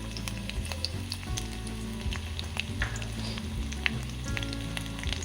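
Garlic fries in oil in a pan, a steady close sizzle with scattered crackles and pops and occasional stirring scrapes, no voices.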